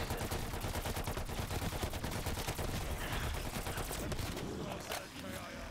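Rapid laser revolver fire in a Jedi zombies video game, a dense unbroken barrage of sharp close shots that thins out briefly near the end.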